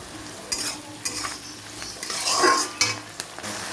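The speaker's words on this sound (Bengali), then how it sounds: "পেঁয়াজটা একটু লাল লাল করে ভেজে তার মধ্যে একটা টমেটো কেটে দিয়ে দেবো" Onions fry in a pan until reddish, sizzling steadily while a spoon scrapes and stirs in several distinct strokes, close and clear with no talking.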